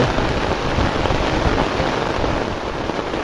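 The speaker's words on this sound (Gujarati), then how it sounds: "જો પાછો વધી ગયો વરસાદ" Heavy rain pouring down steadily in Gujarat, a dense, loud hiss of drops hitting surfaces with no pauses, filling the whole scene without voices.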